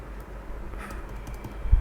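Typing on a computer keyboard at a desk, quiet scattered keystrokes with a couple of louder taps near the end, no voices.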